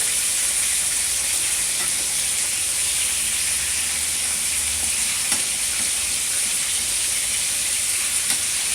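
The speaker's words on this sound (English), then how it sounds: "Now all of our vegetables are really cooking up a storm over here" Fish and vegetables sizzle steadily in a pot for fish soup, a dense, even frying hiss that holds without pause, close and fairly loud, with an occasional faint clink.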